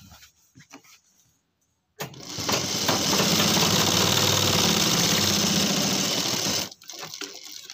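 An electric sewing machine stitching a pajama pocket runs in one loud, steady burst of rapid needle hum for about five seconds, preceded and followed by quieter handling sounds.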